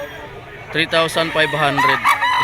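Gamecocks for sale at the Grotto pet market crow loudly and close, one long harmonic cock-a-doodle-doo that breaks into several wavering bursts, while faint market noise sits underneath.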